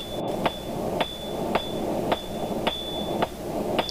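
A blacksmith hammers a rosette stem on the edge of an anvil: sharp, ringing metallic strikes land at a steady rhythm, about seven in four seconds, each leaving a high ring that hangs between blows, close and loud.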